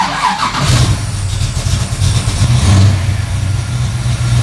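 Car engine with a newly installed one-wire alternator, idling close by and then revving briefly as it picks up, with a low steady drone and no talking.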